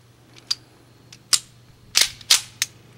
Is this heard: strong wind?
no